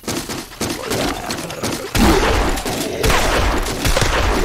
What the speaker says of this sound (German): Und schön die Munition verschossen.